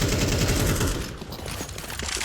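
Rapid gunfire rattles in Counter-Strike 2 as a player pre-fires an angle, a dense burst of shots loud and close, easing slightly in the second half.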